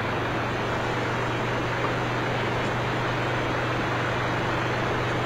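A car on a freeway between Bakersfield and the Bay Area gives a steady, loud engine drone and road rumble with a constant low hum, unbroken for the whole stretch.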